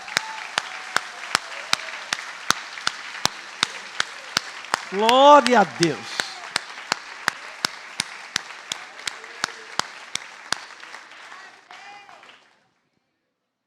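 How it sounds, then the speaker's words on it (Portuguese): A church congregation claps in a steady, evenly spaced rhythm for several seconds while a preacher speaks over it with a brief vocal swell midway, the clapping then thinning before silence. "vamos aplaudir esse povo aí, ó"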